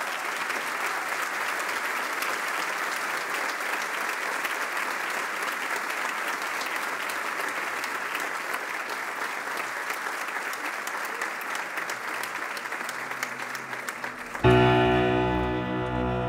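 Sustained audience applause for the conductor at a Brazilian instrumental music concert, even and moderately loud for about fourteen seconds, then cut off abruptly by a brief tonal instrumental sound.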